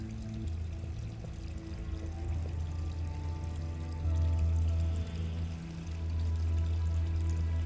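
Steady watery rushing from the Harold Halibut game environment, a low continuous pour under a droning hum that swells slightly midway, with no voices.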